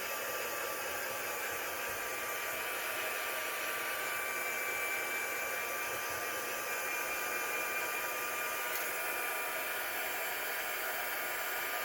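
A heat tool blows steadily at close range to dry pigment ink on a card, its constant hairdryer-like whoosh and hum running unbroken without any talking.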